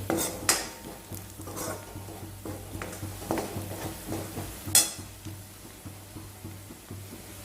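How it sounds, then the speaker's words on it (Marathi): Boiled, chopped potatoes tossed with coriander powder and garam masala are stirred in a pan, giving repeated metal scrapes and clinks of the spoon against the pan, fairly close, over a faint sizzle. "आता हे छानसं आपल्याला यामध्ये मिक्स करून घेऊ."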